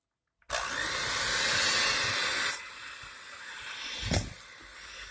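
An electric mixer starts up suddenly and whirs loudly while beating butter and cream cheese, then drops to a lower, steadier hum with a brief bump of the beaters near the end, and no talk.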